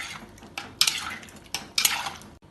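A spoon scrapes and clinks against a metal pot while pineapple curry with turmeric and salt is stirred, in two or three short bursts of close scraping separated by quieter pauses, with no talking.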